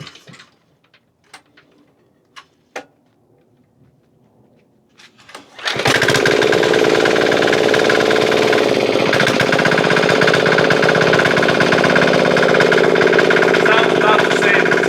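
Several faint clicks and taps come first. Then the diesel engine swapped into a Lawn Boy tiller fires up and runs at a loud, steady, rattling clatter through to the end.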